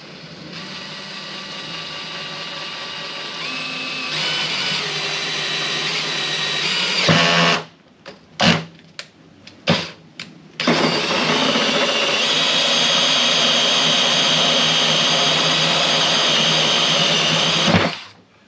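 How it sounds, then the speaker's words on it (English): Power drill boring a hole in the top of a 2-inch pipe cap, a loud steady whine running for several seconds, then a few short bursts, then another long sustained run, close and alone. "what we're going to start off by doing is drilling a hole in the top of the 2-inch cap"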